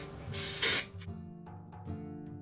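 Hairspray sprayed onto hair during styling gives a short, bright hiss of about half a second, close by, followed by a brief puff, then quiet low hum and light handling sounds.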